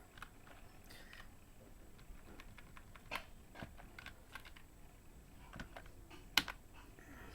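Fast typing on a computer keyboard while HTML code for a web design is written, with irregular close key clicks, a few sharper taps and one loud strike near the end over quiet room noise, and no talking.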